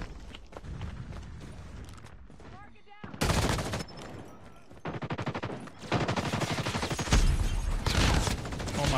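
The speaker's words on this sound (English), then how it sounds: "That's a lot of gunfire." Dense bursts of automatic gunfire in a ranked online shooter match with an M16, rapid rattling volleys broken by short pauses, with a player talking over the shooting.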